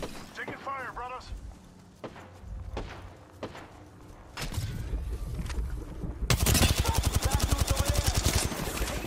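Rapid automatic gunfire in a video game, a dense rattling burst that builds near the end after scattered single shots, while players talk over it.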